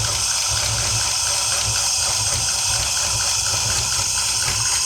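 A 1970 Chevy C20 truck engine runs steadily after carburetor work. It is a loud, continuous idling rumble with a hissing, watery wash over it, and it carries on without a break and without talk.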